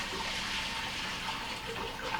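Hot water gushes and splashes continuously into a water bath canner, a loud, steady rushing pour that lasts throughout with no talking.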